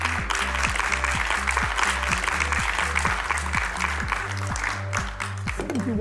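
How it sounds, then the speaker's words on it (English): Audience applause for a keynote speaker at a banking conference in Dubai, a dense, steady wash of clapping throughout with a rhythmic music beat pulsing underneath. "A big round of applause for him."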